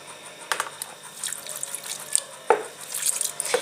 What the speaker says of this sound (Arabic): هحط تاني مية.